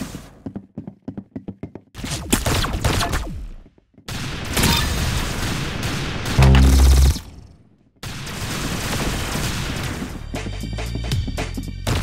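Gunfire in Roblox Arsenal, loud bursts of rapid shots and single cracks in separate segments, broken by short silences, with one heavy low thud partway through.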